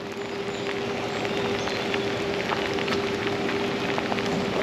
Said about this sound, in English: You can see the rain's coming down pretty good.